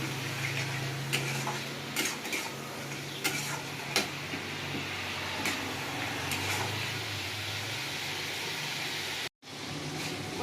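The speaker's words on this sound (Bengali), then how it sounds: "জল দিয়ে মশলাটা কষবো" Spice paste frying in a pan with a splash of water for a potato, eggplant and boal fish curry, low steady sizzle with intermittent spoon scrapes and clinks, briefly cutting out near the end.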